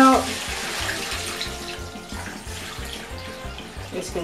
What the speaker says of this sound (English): As you can see, all the murky water is flowing out.